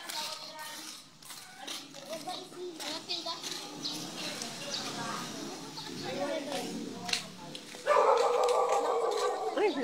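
A dog barks and yips near the end, short whining bursts amid steady chatter from people talking nearby.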